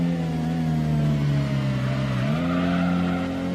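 Toyota Corolla racing in the PS1 game Gran Turismo, Sunday Cup: a steady, loud mid-pitched engine drone holding one tone, easing slightly lower before stepping up in pitch after a gearchange, with no talk over it.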